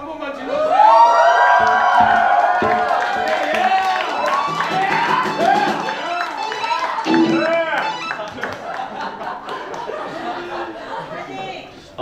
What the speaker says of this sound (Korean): 응원의 함성 한 번만 질러주세요